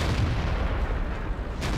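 Tank cannon fire rumbles through a World of Tanks battle, a heavy low boom and rolling roar filling the whole stretch with no distinct gap and no talk.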